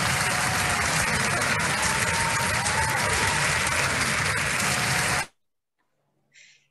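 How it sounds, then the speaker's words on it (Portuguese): A group audience breaks into sustained, loud applause at a workplace psychodrama session, dense and steady for about five seconds before stopping abruptly, followed by silence and a faint brief sound. "Palmas para o grupo?"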